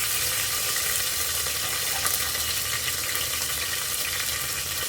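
Ginger garlic paste frying in a pan, a steady close hiss of sizzling oil that holds at an even loudness without pause, with no voices.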